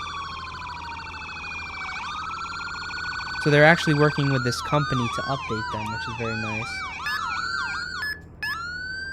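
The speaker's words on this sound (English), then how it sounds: "They updated the sirens for both the police and sheriff teams." A video game police siren in auto mode wails in a continuous rising and falling cycle, loud and close, while someone talks over it.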